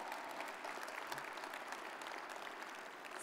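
Audience applause at an awards gala for a foundation supporting educators, a steady, dense wash of many hands clapping at moderate distance, holding evenly throughout without pause or voices.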